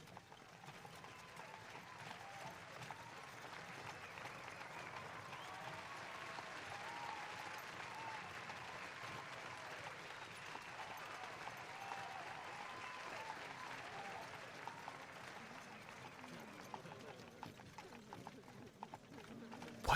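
A large crowd cheers and applauds in a city for an audio drama, a steady roar of voices and clapping that fills the whole stretch without pause, with horse hooves faintly possible beneath.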